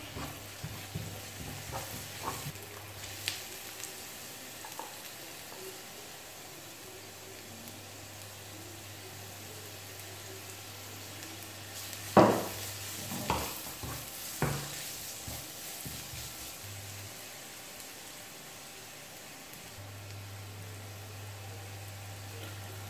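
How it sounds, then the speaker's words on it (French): Food sizzles steadily in a hot pan for a potato and minced-meat gratin while a utensil stirs it, with a few sharp scraping knocks standing out midway and a low steady hum underneath. "On mélange bien."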